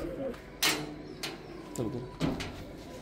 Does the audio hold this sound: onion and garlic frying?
no